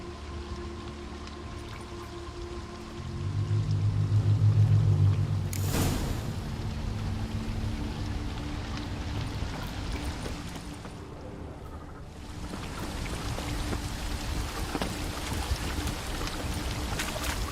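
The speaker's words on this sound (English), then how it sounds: "A waterfall flowing upwards." A magical waterfall flowing upwards in The Witcher 3: Wild Hunt makes a steady, broad rushing wash of water that swells for a moment, then carries on as a constant roar.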